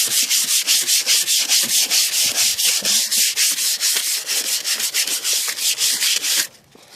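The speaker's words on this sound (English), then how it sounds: "Yeah, just sand just like this right here." Hand sanding the body of an 88 Cadillac DeVille: steady, rhythmic back-and-forth rasping strokes, loud and close, continuing for several seconds before stopping abruptly near the end.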